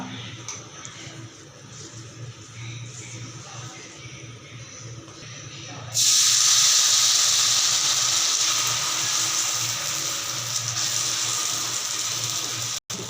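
Dosa batter made with maida and drumstick leaves hisses and sizzles on a hot griddle, a steady loud frying noise that jumps up sharply as batter hits the pan and then continues, with faint talk underneath.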